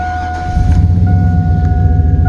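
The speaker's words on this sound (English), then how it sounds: "So now we're gonna crank the engine." A car engine cranks and catches, its idle settling into a steady low hum with a faint electronic tone from an OBD II code reader plugged in, close and loud for about two seconds.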